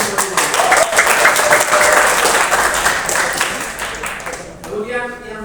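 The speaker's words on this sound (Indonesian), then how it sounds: "Mari kita tepuk tangan untuk kita semua." A large student audience applauds during an audience session at the Kupang city council building, broad sustained clapping filling the space for about five seconds, then fading as a voice begins speaking.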